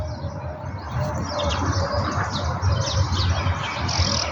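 Parrots chirp in short, overlapping high calls against a busy outdoor background, moderately close and fairly faint, with no voices.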